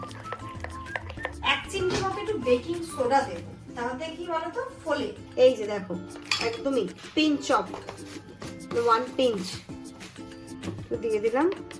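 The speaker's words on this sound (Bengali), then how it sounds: "বেশ ভালো করে বেসনটাকে ফেটিয়ে নিই" Gram flour (besan) batter for begun bhaja is beaten in a bowl, with rapid irregular clinks and scrapes of a utensil against the bowl, heard clearly under someone talking.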